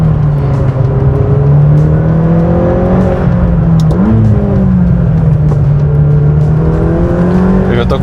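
A McLaren GT with a 620 hp engine accelerates from a steady drone to a rising, loud rev, with a brief dip around a gear change, heard from inside the car.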